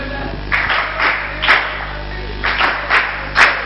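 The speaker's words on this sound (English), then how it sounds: "Keep clapping, keep clapping." At a standup comedy show, an audience claps in several scattered bursts rather than steady applause. A voice speaks between the claps.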